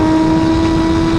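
A Suzuki GSX-R1000R sport motorcycle accelerates hard on the street after downshifting, its engine holding a loud, steady, close drone with a strong tonal whine and wind noise, no speech.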